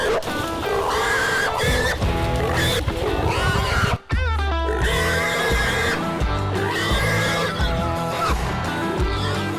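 Wild hogs caught and held down by catch dogs during a hunt give squealing cries that are partly buried under loud, continuous background music, with a brief dropout midway.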